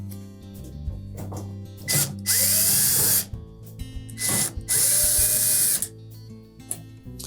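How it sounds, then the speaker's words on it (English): A cordless power drill backs screws out of the top panel of a Samsung dryer, two loud high whirring bursts of about a second each with clicks and handling noise between them, close up. "next we'll remove the screws across the top"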